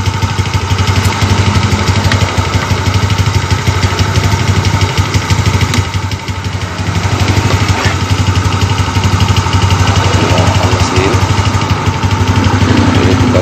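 A vehicle engine idles steadily and loudly nearby while plain water circulates through the radiator during a flush, a continuous rumble with a brief dip partway through and no talk.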